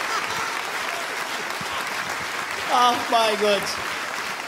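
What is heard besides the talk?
studio audience applause welcoming guests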